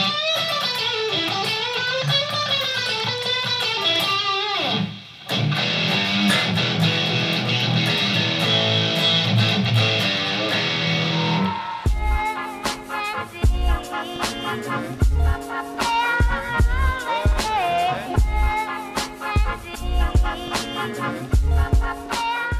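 A newly built electric guitar plays distorted, loud, gritty chords and riffs, shifting from sustained crunchy strums to choppy palm-muted rhythms, with no talking.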